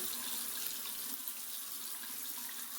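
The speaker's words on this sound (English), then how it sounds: "Wet it a little bit with cold water." Cold tap water runs steadily from a faucet to wet an alum block during a wet shave, a close, continuous hiss with no talk.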